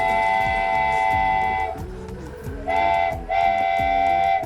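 The Agadir petite tourist train rolls along under a loud, steady engine drone, with a sustained horn-like tone that sounds, breaks off briefly, then returns twice, close and continuous.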